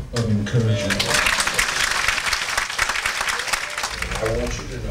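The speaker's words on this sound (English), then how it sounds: "certainly deserves a hand clap of encouragement" A church audience claps for a pastor and moderator, a dense burst of applause that fills the space, mixed with voices speaking and calling out over it.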